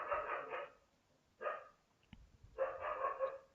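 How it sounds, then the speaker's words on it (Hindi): Several dogs barking outdoors at a moderate distance, in two rapid clusters of barks separated by a short single bark and a pause. "सारे ही कुत्ते भौंक रहे हैं।"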